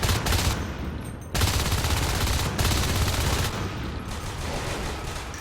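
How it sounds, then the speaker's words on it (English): Rapid gunfire bursts from a video game seeding match fill the whole stretch, loud and continuous with brief dips between volleys, no talk over it. "Good shooting by Fogo"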